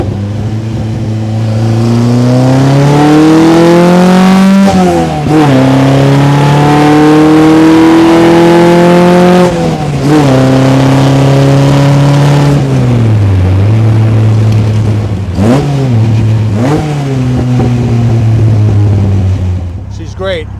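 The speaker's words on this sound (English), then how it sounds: "Third, and we'll give you a little burst of acceleration" A 1955 Austin-Healey 100S tribute roadster accelerates in third gear, its engine note climbing loudly through repeated rising pulls and shifts, heard up close from inside the car with speech over it.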